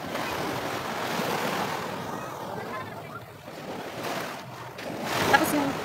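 Sea breeze and waves wash over Nasugbu Beach in a broad, steady rush of surf and wind, fairly close, easing briefly midway before swelling again.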